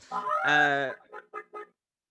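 A loud, drawn-out squawk from a hen, followed by three short clucks in quick succession, close by with nothing else behind it.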